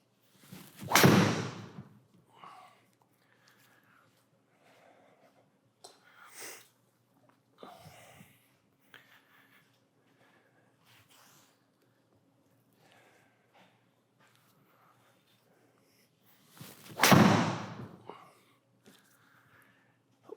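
A golf club fitted with a Graphite Design Tour AD graphite shaft strikes a ball: one sharp, loud impact near the start and a second near the end, with faint scattered handling noises in between.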